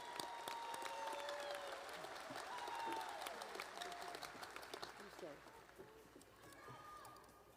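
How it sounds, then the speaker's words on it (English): Applause from a high school graduation audience, honoring top-performing seniors, sounds fairly faint and distant, a steady patter of clapping across the ceremony. "How about a nice round of applause for our top performing seniors?"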